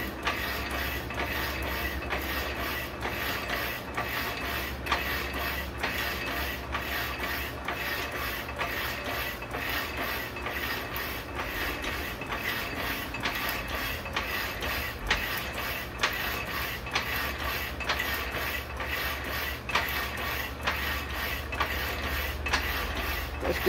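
A power hacksaw cuts steel with a steady, rhythmic mechanical clatter and a regular ticking stroke. The motor drones continuously underneath, moderately close, running without a break throughout.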